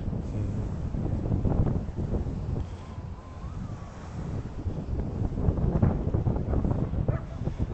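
Wind blows outdoors in London on a sunny evening, rumbling and buffeting against the microphone in a constant, fluctuating roar with no speech.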